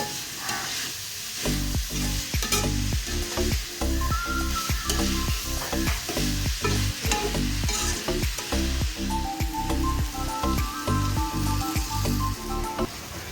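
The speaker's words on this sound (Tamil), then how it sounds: "இந்த மாதிரி அடி கனமான பாத்திரத்தை வச்சு வதக்கும்போது அந்த காய்கறிகள்லாம் நல்லாவே வதங்கும்" Vegetables for biryani sizzle and fry in a heavy-bottomed pan over a wood fire while a utensil stirs and scrapes in a steady, repeated rhythm, close and loud.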